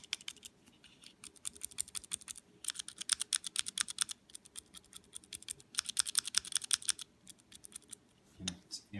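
A keyboard switch fitted with a silicone O-ring is pressed repeatedly, giving quick bursts of soft, muted clicks in close rhythmic runs with short pauses between them.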